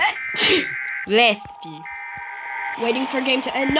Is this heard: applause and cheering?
no